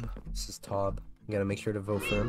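A cat meows in the Minecraft video game, mixed under a man's close, steady chatter during a survival-server episode. The short meow calls blend into the speech.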